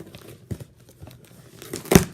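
Crinkly plastic packaging being snipped with scissors and torn, a few irregular crackling bursts ending in a louder rip.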